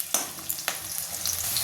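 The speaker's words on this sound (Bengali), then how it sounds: "আলুটাকে হালকা ভাজা ভাজা করবো।" Cut potato pieces lightly frying in hot oil with bay leaf, cumin, cinnamon and crushed cardamom, a close, steady sizzle with a few sharp crackles and stirring scrapes.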